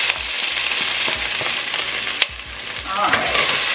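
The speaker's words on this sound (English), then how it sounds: "So put the onions back in" Onions sizzling in a hot pan with beef, vegetables and sesame oil as they are stirred, a continuous close frying hiss with a few scraping knocks and one sharp clack.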